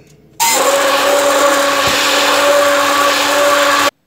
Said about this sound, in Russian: И опять взбиваю.